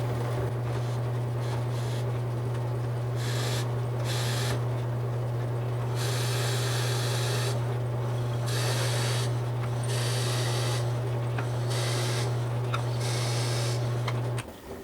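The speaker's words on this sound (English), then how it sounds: "we're ready to drill" A drill press runs with a steady motor hum while the bit bites into a spalted wood pen blank in repeated rough grinding bursts, close and continuous, with no talking.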